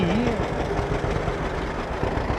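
A John Deere tractor engine idles and chugs in a low, steady rumble as it rolls along in a town parade in Hemmingford, with faint crowd noise in the background.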